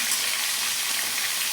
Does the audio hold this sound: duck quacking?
no